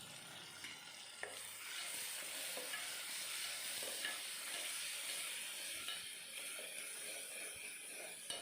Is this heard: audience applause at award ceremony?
no